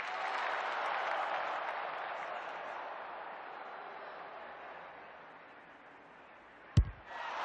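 Crowd at an Australian rules football match at a VFL ground, broad roaring cheer and applause that swells early then gradually fades, ending with a sharp thump near the close.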